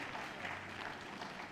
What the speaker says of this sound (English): Nice support from the crowd then.